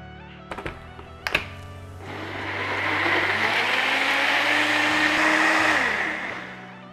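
Kitchen blender starting up after a few sharp clunks and whirring steadily for several seconds as it purées aromatic vegetables and bananas for banana ketchup, loud and close, with the motor pitch shifting slightly as the blend thins.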